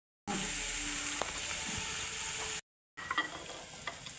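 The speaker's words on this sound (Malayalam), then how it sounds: "സ്വല്പം കായവും കൂടി ഇതിൻ്റെ കൂടെ ഇട്ട് അത് മൂക്കട്ടെ." Ginger fries with asafoetida in hot oil for a Kerala-style ginger curry, giving a steady close sizzle and hiss that cuts out briefly and then resumes with a few crackles.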